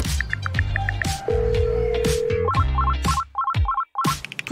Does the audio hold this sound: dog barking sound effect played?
no